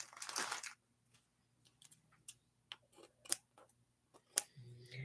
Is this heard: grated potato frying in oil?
no